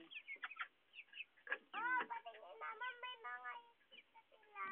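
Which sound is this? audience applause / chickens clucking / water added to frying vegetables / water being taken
chickens clucking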